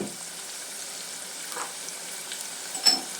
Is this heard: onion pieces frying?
yes